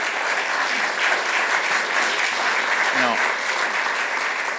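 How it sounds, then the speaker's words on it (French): Applause from the audience at a mental health conference in Ille-et-Vilaine, a dense continuous patter of clapping, with a faint voice briefly audible beneath it. "on les applaudit"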